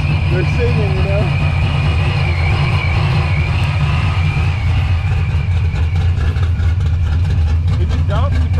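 A 1990s Mustang coupe engine idles with a deep steady rumble and a faint high Vortech supercharger whine, while people talk nearby over it.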